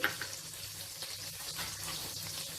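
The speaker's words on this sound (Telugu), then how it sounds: "ఈ ఉల్లిపాయని ఒక్క నిమిషం ఫ్రై చేసుకుంటే సరిపోతుంది" Thick-sliced onion frying in hot oil in a pan for village-style chicken fry: a soft, continuous sizzle and crackle, steady and fairly quiet, with faint stirring and no talk.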